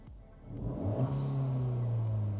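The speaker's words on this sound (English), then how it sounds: "So right now, if I press on the gas pedal," An 11th-generation Honda Civic Si turbo engine revs as the gas pedal is pressed, its steady idle swelling into a rising, sustained drone heard from nearby without speech.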